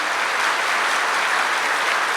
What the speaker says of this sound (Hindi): अपने लिए ताली बजाएं